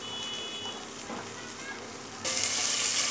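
Ginger garlic paste and cumin fry in a pan over medium heat with a steady close sizzle that grows louder and brighter near the end.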